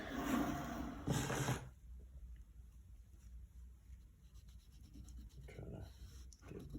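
Dry rubbing and scraping of a rag wiping finish over a turned wooden wand, a loud burst early then softer intermittent wiping strokes with faint background rustle.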